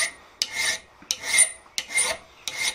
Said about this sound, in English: So as you file and remove material down